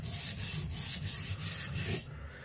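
A butcher's knife is sharpened with a steady series of about eight rhythmic rasping strokes, close and fairly quiet, ending abruptly.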